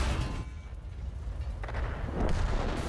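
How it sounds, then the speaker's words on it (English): A Panzer IV tank cannon fires in War Thunder, a single heavy boom with a dull thud set against quiet low rumble and faint battlefield ambience. "And I take a blind shot."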